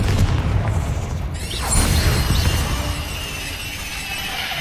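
A Confringo blast spell detonates in Hogwarts Legacy, a loud booming burst followed by crackling debris and a lingering rumble, no voices present.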